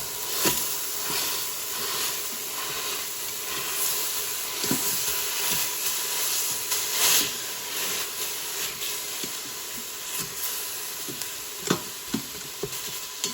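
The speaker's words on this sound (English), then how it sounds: "Now you hear the ground beef sizzling." Ground beef sizzles steadily in an Instant Pot, a constant crackling hiss broken by occasional scraping and clicking as it's stirred with a spatula.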